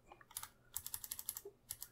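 Computer keyboard keys are pressed in quick, crisp clicks while operating astronomy software on a computer: a few scattered taps, a rapid run of about eight, then a final pair, all close and quiet.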